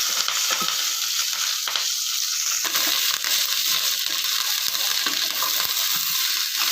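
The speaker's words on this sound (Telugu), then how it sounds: "ఇప్పుడు కరివేపాకును వేయించుకోవాలి." Curry leaves fry in a tablespoon of oil with garlic cloves, giving a steady, close, continuous crackling sizzle with small pops and crisp spatters throughout, and no voices.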